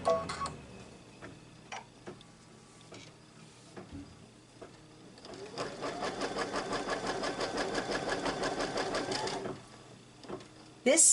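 An embroidery sewing machine stitches a placement line for a quilted mug rug, starting with scattered ticks and clicks, then settling into a steady rapid mechanical whirring run before stopping.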